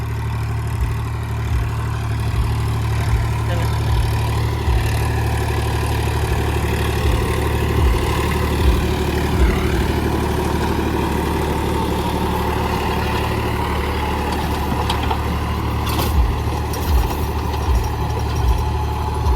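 A Mahindra 5250 tractor runs with a Shaktimaan 6.5-foot rotavator in a field, giving a steady, loud low engine drone with a constant hum that stays close throughout, no voices.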